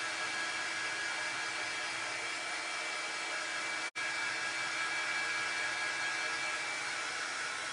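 A hair dryer blows steadily on a freshly applied transfer print, a loud, even whooshing hiss that cuts out for a split second midway before resuming.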